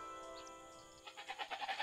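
A sheep in a video game gives a short series of faint wavering bleats toward the end, following a steady tonal game hum.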